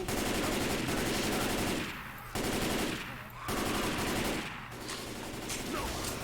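Rapid automatic gunfire from Left 4 Dead 2, dense and loud, comes in three long bursts separated by brief pauses.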